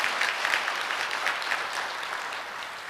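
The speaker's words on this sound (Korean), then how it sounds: "모든 효동 교사분들께 큰 격려의 박수 부탁드립니다" A large church congregation at a Korean Sunday worship service applauds its teachers, a soft, even wash of many hands clapping, distant and steady, fading slightly toward the end.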